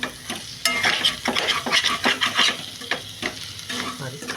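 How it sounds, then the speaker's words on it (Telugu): Potato fry (aloo fry) sizzling in a pan while a spoon stirs and scrapes it from the bottom, steady frying crackle with repeated scraping strokes, close and without talk. "ఇప్పుడు బాగా మిక్స్ చేసుకోండి ఇది కింద నుంచి ఇట్లా అనుకుంటే కూర అడుగంటకుండా ఉంటుంది"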